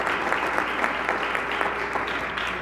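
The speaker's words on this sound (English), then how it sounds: "could we have one more round of applause for these young musicians?" An audience at a school district board meeting applauds young school band musicians with steady, even clapping from a moderate-sized crowd, sustained throughout at a fairly distant level.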